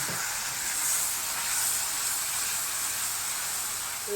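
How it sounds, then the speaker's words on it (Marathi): Hot water poured onto frying onion and tomato in a pan for a prawn curry sends up a steady, even hiss of steam that lasts throughout with no talk. "गरम पाणी टाकायचं भाजी"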